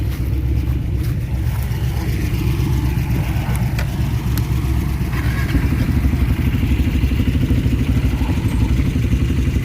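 An old Eleanor Mustang engine, left abandoned for over a decade, runs rough and loud nearby with a steady clattering, chattering drone that holds throughout.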